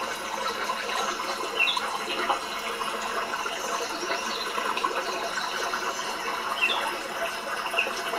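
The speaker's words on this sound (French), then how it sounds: "Puis la pluie se met à tomber" Steady rain falling during a storm on a children's cabin, a continuous soft wash of water with faint drips, fairly quiet and unbroken throughout, with no voices.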